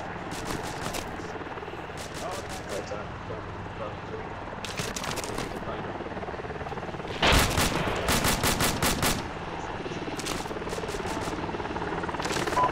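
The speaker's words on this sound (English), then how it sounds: "Getting in this helicopter." Helicopter in the Arma 2 military video game, a steady rotor drone throughout, broken by repeated bursts of rapid gunfire, loudest in the middle stretch.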